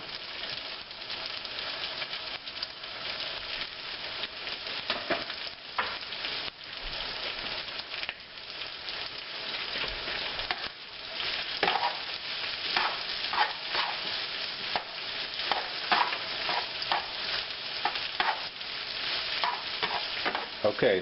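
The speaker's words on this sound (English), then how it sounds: "we're going to add the onion part of the chives right now" Stir fry with the onion part of chives sizzles and crackles in a hot pan, a continuous dense frying hiss with scattered pops and stirring scrapes.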